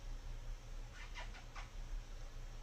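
A pet cat meows softly indoors, a short cluster of three or four faint mews in the middle, set over a steady low room hum.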